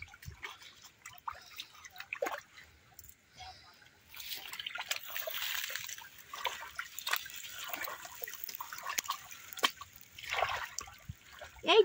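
Water sloshing and trickling as it is pushed by hand across a flooded Bengal wetland field for fishing, a steady close splashing and dribbling that swells and fades, with faint voices now and then.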